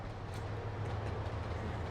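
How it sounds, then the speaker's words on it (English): A Santa Fe train passes in the Trainz Simulator 2 game on the Highland Valley Industries route, a steady low rumble with a faint rolling rattle, heard alone and close. "I hear a train going like something."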